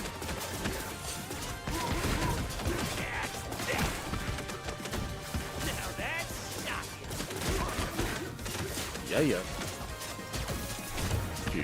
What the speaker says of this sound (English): I love that, smashing him in the head.